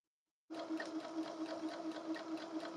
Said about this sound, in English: And sew my hat tail closed.